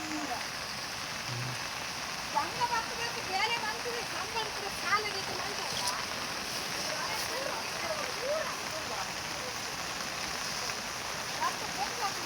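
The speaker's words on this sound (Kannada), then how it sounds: "ಏಲಕ್ಕಿ ಮಳೆಯ ರಭಸಕ್ಕೆ ನೀರು ನುಗ್ಗಿದೆ ತೋಟಕ್ಕೆ" Floodwater from heavy rain rushing into a cardamom and coffee plantation beside a swollen river, a steady close wash of churning water and rain spatter that runs the whole time.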